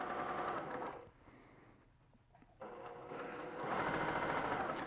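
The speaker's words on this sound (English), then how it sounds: "So I'm going to top stitch again, or back stitch I should say." Sewing machine back-stitching at the corner of a fabric grocery bag: a close, steady mechanical whir runs, drops to a brief low lull in the middle, then resumes louder to the end.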